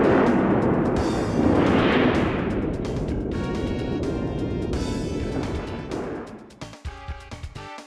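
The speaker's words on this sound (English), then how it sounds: "Far away, thunder rumbles, and it soon begins to rain." A heavy, continuous rumble of distant thunder in a PS1 game fills the air, rolling and crackling before breaking into sharper bursts and fading toward the end, as rain begins.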